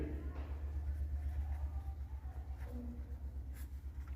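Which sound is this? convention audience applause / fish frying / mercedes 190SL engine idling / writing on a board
writing on a board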